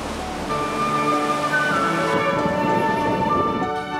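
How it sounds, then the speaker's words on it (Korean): Ocean waves crashing against rocks at Kiama on the coast south of Sydney, a steady loud surging wash with no talk, under a faint tonal hum. "정말 바위를 때리는 파도 소리가 우렁차다."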